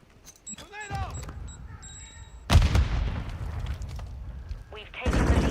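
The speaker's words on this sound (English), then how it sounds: "Throwing grenade!" An explosion and gunfire in Call of Duty Modern Warfare II: a loud blast bursts in mid-clip and rumbles on, with shots cracking before and after, over game voice chatter and alert beeps.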